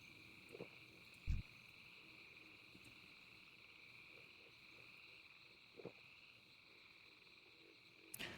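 Frogs croak and insects chirp steadily in the swampy Dustwallow Marsh ambience of Classic World of Warcraft, a constant high insect drone with a few scattered croaks and clicks, all fairly quiet.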